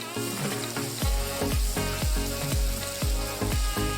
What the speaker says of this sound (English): we're gonna fry this. I have cooked and uncooked chorizo in here to add to this recipe.